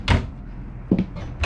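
Cabinet door opening inside a bunkhouse motorhome: a short wooden knock and creak near the start, followed by a second softer clunk a moment later, close and fairly loud.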